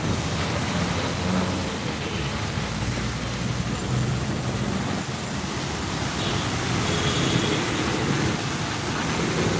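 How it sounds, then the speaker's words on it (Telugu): Steady rain easing off, hissing down continuously, a dense even wash of noise with no breaks or voices. "ఇప్పుడిప్పుడే వర్షం సుత్త తగ్గుతుంది"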